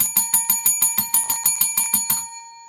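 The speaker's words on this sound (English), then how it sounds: "Oh, ring that bell, baby." A bell rings about eleven times in quick, even succession, each strike bright and metallic with a short ring-out, close and loud, then trailing off into a sustained tone.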